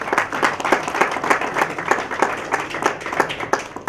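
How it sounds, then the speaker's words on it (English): Moderate audience applause at a startup panel session, individual claps audible in a loose, uneven rhythm, close and steady throughout without talk. "Please give them a round of applause."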